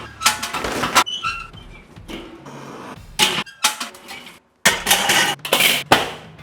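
Heat Beads coconut briquettes tumble into a Weber Kettle Kone in several loud, clattering bursts of hard chunks knocking together, with short pauses between pours.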